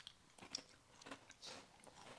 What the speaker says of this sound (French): La chip, elle est super croustillante au début